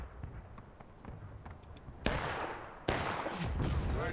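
Two loud gunshots in an online shooter game event, sharp and close, spaced under a second apart, following quieter game noise.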